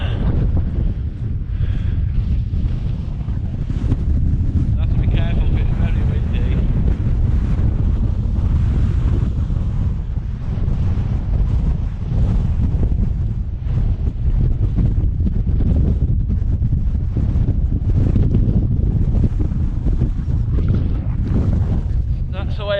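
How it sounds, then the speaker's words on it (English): Strong wind roars and buffets the microphone on the summit of Helvellyn, a loud continuous gusting rumble that persists throughout, with speech faintly mixed in. "That wind is really strong."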